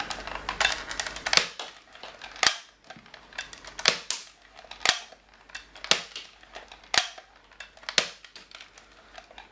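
Nerf Max Force Rattler blaster firing Mega Darts at a wall, a steady series of sharp pops about once a second, each paired with the clack of priming the slide, close and fairly loud.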